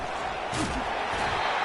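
A football stadium crowd at a Ducks game keeps up a steady, far-off roar of noise throughout, with no clear peaks.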